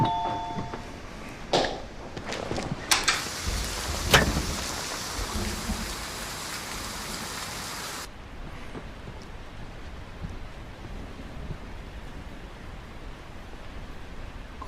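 Heavy rain pours in a steady hiss, louder and denser for the first half with a few sharp knocks and bursts, then settling into a softer, even downpour.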